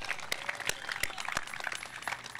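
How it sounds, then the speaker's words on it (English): A crowd at an outdoor dedication of a Long Beach sports complex gives applause for young high school students, heard as faint, scattered claps from a distance. "let's give all of our young students a big round of applause"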